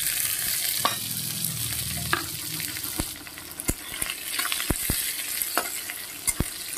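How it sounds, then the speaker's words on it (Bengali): Garlic and onion tossed into a hot pan of tempering spices for a potato, eggplant and fish curry, sizzling close by as a spoon stirs and clinks a few times, with water running briefly from a tap. "পেঁয়াজ রসুনটা একটু ভাজতে থাকি বন্ধুরা"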